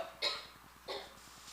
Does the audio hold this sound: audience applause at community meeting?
no